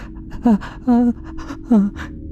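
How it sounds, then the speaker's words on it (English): Three sharp, strained gasps, each a short rising-then-falling breathy cry, spaced evenly and close up in a quiet setting. "was making this weird gasping sound"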